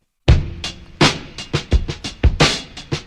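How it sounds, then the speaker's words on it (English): A breakbeat drum sample triggered from an MPC pad plays alone, punchy kicks and snares in a brisk, syncopated pattern after a moment of silence, loud and close. "I've got a breakbeat sample loaded to my first pad in this drum program"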